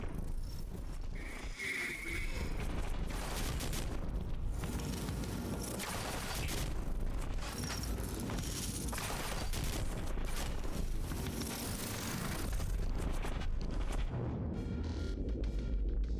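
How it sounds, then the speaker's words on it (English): A light machine gun fires in the Quantum Break video game, heard as dense, sustained bursts of gunfire. The shots run almost continuously over other game sounds. "I don't know how well this LMG is gonna work."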